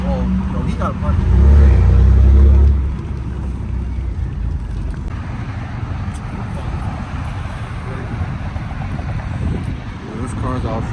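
Car engine revving at a busy car meet, a loud low rumble swelling for a second or two and then settling into a steady idle drone with wind noise on the microphone and people talking nearby.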